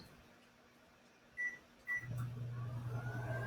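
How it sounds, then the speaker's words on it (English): A microwave oven heating a bowl covered with a wet paper towel gives two short beeps, then starts a steady loud hum that continues to the end, over a quiet room background. "we're going to pop this in the microwave for"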